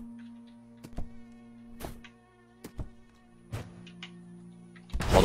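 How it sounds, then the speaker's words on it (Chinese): Many mosquitoes drone in a steady, layered whine close by, broken by several sharp thuds and clicks, then a louder burst of noise at the end. "好多蚊子"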